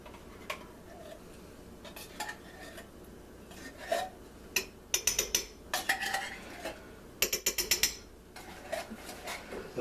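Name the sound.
stirring cream of mushroom soup into ground beef in crockpot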